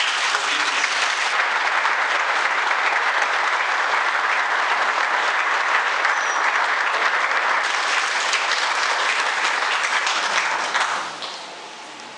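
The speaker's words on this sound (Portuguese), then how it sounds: "Uma grande salva de palmas a esse homem." A crowd of mourners at the burial of a national war hero gives sustained, dense applause, loud and close for about eleven seconds before it tapers off quickly at the end.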